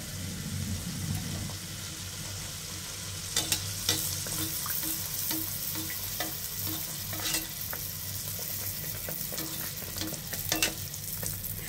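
Poa pitha, puffy rice-flour cakes, crackle in a pan of hot oil: a steady hiss of frying laced with repeated small pops and spits, close and fairly quiet, with a low rumbling hum beneath and no talk.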